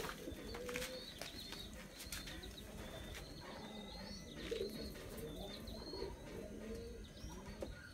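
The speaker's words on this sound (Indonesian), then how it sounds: "burung dara merpatinya sudah mau siap di spike" Rock pigeons coo softly in low, repeated throaty rolls, with scattered chirps and faint wing flutters against a quiet background.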